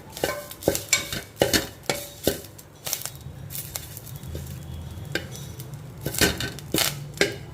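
Pumpkin seeds are stirred in oil in a pan. A utensil scrapes and clinks in a quick, repeated rhythm over a soft sizzle, close up, with no talking.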